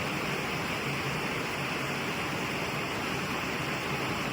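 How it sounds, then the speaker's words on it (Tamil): Steady rain pours outside a house, water pooling in the yard behind it; a continuous, even hiss of broadband noise runs unbroken and fairly soft, with no voices over it. "இங்க பாருங்க எப்படி மழை பெய்யுது."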